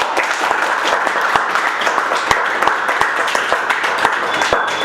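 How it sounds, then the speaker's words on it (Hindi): A group of people applauds together, dense, continuous clapping with sharp individual claps standing out, loud and close for several seconds. "ताली बजा दो एक बार इनके लिए।"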